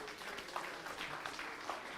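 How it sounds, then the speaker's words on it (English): Faint, distant applause from an audience at a school quiz competition results announcement, a soft patter of clapping with a few sharper claps standing out. "Let's give them a round of applause."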